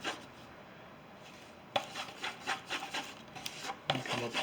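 Palette knife scraping and rubbing red and blue paint together on a palette for a purplish cloud color, a quiet lull followed by a run of repeated short smearing strokes, close and fairly soft.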